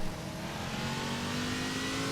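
A Howston Dissenter race car in rFactor 2 on Toban Raceway Park roars at high revs, a loud continuous engine drone throughout with no talking.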